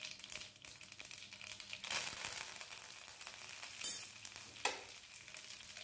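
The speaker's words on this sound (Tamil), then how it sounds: "இப்போது இதோட 1 கொத்து கருவேப்பிலை சேர்த்துக்கோங்க" A sprig of curry leaves fries in hot oil with cumin seeds, giving a soft, continuous sizzle broken by a couple of sharper crackles, quiet and close.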